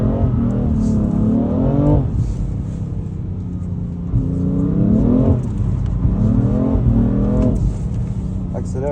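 Car engine repeatedly revving up while accelerating, rising harmonic whines in several bursts with a steady rumble underneath, close and loud, with people talking over it.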